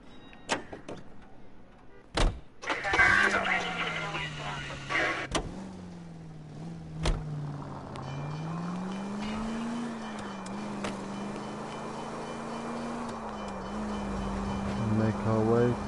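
Car driving in L.A. Noire on PS4: a steady engine hum that rises and falls, after a few sharp clunks like doors closing at the start.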